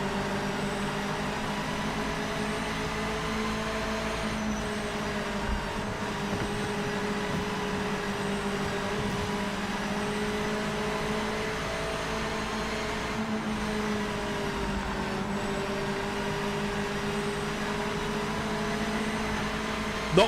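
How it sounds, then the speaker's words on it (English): Mazda MX-5 engine in the Project Motor Racing simulator, a steady droning hum with sustained tonal harmonics shifting slightly in pitch, continuous and moderately loud with no talk over it. "I'm not so enamoured with the sound of the MX-5"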